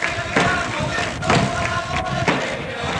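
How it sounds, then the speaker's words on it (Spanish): Tamboril drums and hand clapping for sevillanas at a romería procession honoring the Virgen de la Vega, with several dull thumping beats recurring about once a second over a busy crowd murmur. "Son tamboriles palmas y sevillanas."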